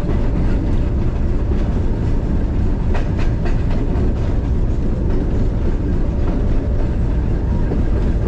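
The Millat Express of Pakistan Railways runs on the rails with a steady loud rumble, heard from the cab, with faint repeated clickety-clack over rail joints and no talk.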